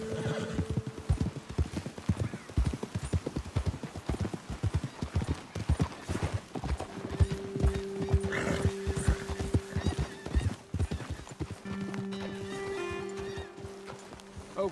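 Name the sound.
horses' hooves clip-clopping in video game Red Dead Redemption 2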